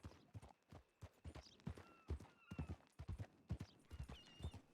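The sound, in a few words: horse hooves clip-clopping in video game Red Dead Redemption 2 roleplay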